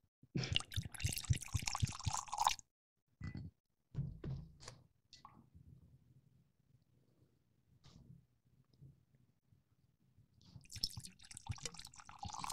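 The Macallan 12 Sherry Oak scotch poured into a glass, with a liquid glugging burst, then soft drips and clinks in near silence, and a second pour at the end.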